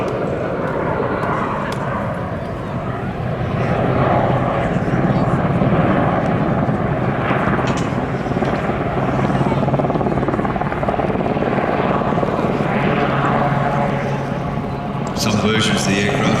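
Westland Sea King HAR3 helicopter, serial XZ597, passing close at an air festival, a loud continuous rotor and turbine drone that swells through the middle with speech underneath.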